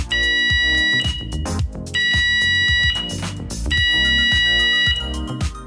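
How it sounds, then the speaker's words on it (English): A fire alarm at Langerbrugge Mill sounds in loud repeating bursts of steady electronic tones, sounding three times with short breaks between, amid other noise. "If you hear this fire alarm,"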